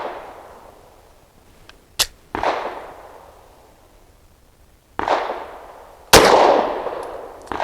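Pistol shots fired with Sig 365 ammunition from a 4-inch barrel, four sharp reports spaced a few seconds apart, each followed by a long echoing decay, loud and close with no talking.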